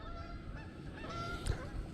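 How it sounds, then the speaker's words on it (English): Geese honk in a short burst of calls close by, out in the open near a boat on the water, with no talking over them. "Look at them old skunking geese"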